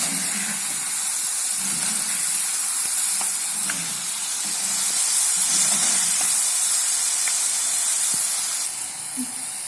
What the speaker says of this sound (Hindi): थोड़ा सा हल्का सा इसको और फ्राई करेंगे और फिर निकाल लेंगे।